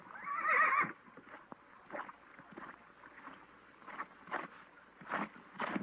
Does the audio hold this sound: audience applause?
no